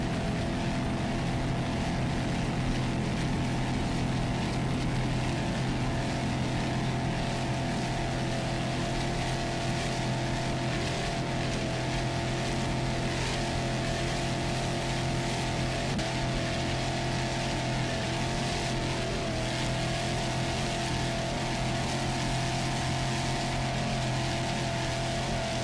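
A 30-foot Phantom offshore race powerboat at the 2002 Key West championships, its engines roaring in a steady, loud, unbroken drone for the whole stretch, with no one speaking.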